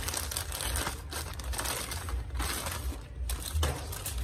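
Crinkly plastic packaging of a Temu storage item being handled and opened, a steady close-up crackling and rustling that runs throughout with brief dips.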